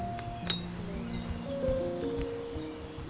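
An old glass bottle dug from a stream clinks sharply once near the start, followed by faint rattles and a soft outdoor hum.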